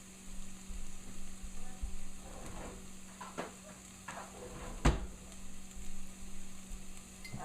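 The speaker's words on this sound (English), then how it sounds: "now I am going to deglaze these with my wines" Venison cube steak sizzling in a pan as wine is poured in to deglaze, a soft steady fry with stirring scrapes and a sharp clank midway.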